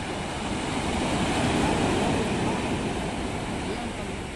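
Steady broadband roar of sea waves breaking along the shore at an open-sea beach, mixed with wind buffeting the microphone and continuous through the whole stretch.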